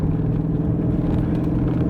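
BMW M850 xDrive in Sport Plus mode, a deep, steady engine and exhaust drone heard from inside the car, loud and continuous with no speech.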